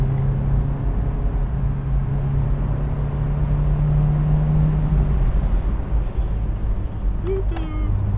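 Engine of a Peugeot 206 CC S16 pulling hard in fourth gear, a steady loud drone holding one pitch for several seconds before easing off, with road rumble throughout and a brief squeal near the end.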